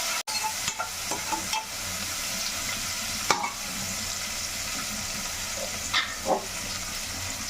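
A spoon stirs coriander and mint into an egg biryani gravy in a pan, with a continuous soft sizzle and scattered scraping clicks, close and moderately loud, with no talking.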